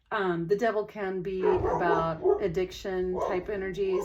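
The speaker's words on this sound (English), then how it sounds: "Sorry about the dogs, but it's a little house." Dogs bark and yip inside a small house, several short yelps and whimpers scattered behind someone speaking steadily in the foreground.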